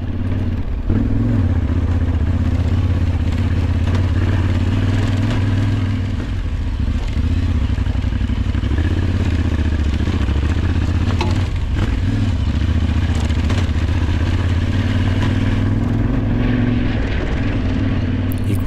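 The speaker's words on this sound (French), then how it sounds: "Nous avons le plaisir d'entendre le bicylindre de la Ténéré travailler sur son couple" Twin-cylinder Yamaha Ténéré motorcycle engine pulling steadily on its torque along a rough Alpine mountain road, a loud continuous low rumble with tyre and chassis clatter, no pauses, close up.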